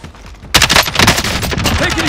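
A sudden burst of loud, rapid gunfire erupts in a battle royale video game match and keeps rattling without a break after a quieter moment.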